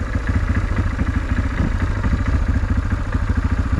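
Old engine idling after its gunked-up carburetor was cleaned of stale gas, a rapid, even mechanical putter with a slight clattery tick, loud and close, running steadily without pause or revving.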